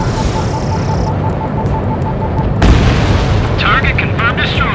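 An anti-air radar vehicle explodes in the Ace Combat 7 video game, a loud broadband boom bursting out over a steady jet-engine drone, followed by clipped radio voices.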